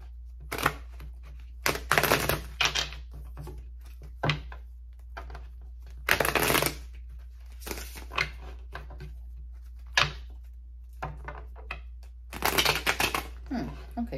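Tarot cards shuffled by hand in repeated bursts of crisp riffling and slapping, the flurries separated by short pauses and fairly close, with no talk over them.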